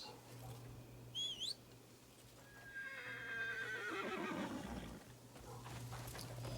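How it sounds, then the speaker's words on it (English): A horse in Crimson Desert neighs, its whinny rising and falling for about two seconds mid-clip, with hooves clip-clopping, a short bird-like chirp early on and a steady low hum throughout. "Horse."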